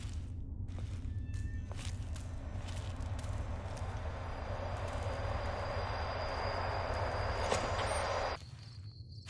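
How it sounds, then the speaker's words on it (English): A video game monorail train rumbles steadily with a loud, continuous low roar and a faint high whine, then cuts off abruptly near the end. "The train is about to depart."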